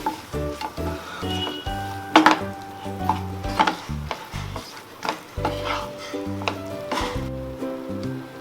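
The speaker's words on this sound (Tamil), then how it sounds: "இது எல்லாத்தையும் நல்லா சிக்கனோட மிக்ஸ் பண்ணிக்கோங்க" Chicken being stirred in a frying pan with chilli, coriander and cumin powders, with repeated scraping and clinking strokes of a spoon against the pan over a faint sizzle, close and steady.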